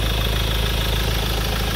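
A 2019 Ford Ranger XLT with a 2.2 diesel engine, manual gearbox and four-wheel drive, idling steadily up close in its open engine bay, a smooth, even rumble with no other sounds.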